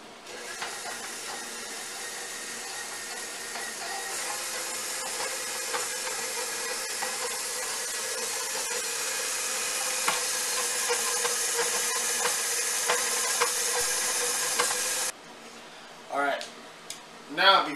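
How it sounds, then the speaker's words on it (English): A KitchenAid stand mixer mixing scone dough at medium speed, a steady loud whirring motor drone with hissing texture that cuts off abruptly, followed by brief quieter clatter. "We're gonna turn the KitchenAid to at least a medium speed."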